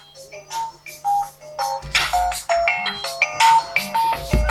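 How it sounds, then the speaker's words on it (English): A smartphone medication alarm chiming a repeating melodic tone pattern close by, growing louder and fuller over several seconds, with no talking. "hang on a minute, my phone's going off"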